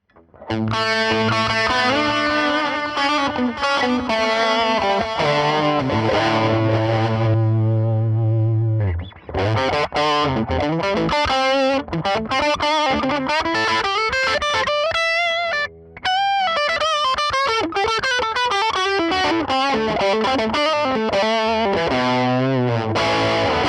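Electric guitar played through a Line 6 HX Stomp with a Klon-style overdrive, sustained distorted chords and melodic lines with brief pauses, loud and up close.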